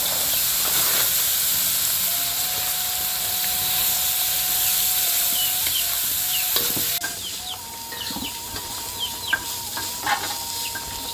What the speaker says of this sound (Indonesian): Tapi kok itu menggoreng bawang dulu?